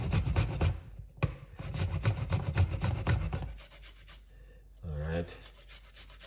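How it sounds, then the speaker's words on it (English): Fresh ginger grated by hand for a beetroot, ginger and lime drink: a run of quick, rhythmic rasping strokes up close, then a pause and a brief spoken word. "we wanna grate our ginger"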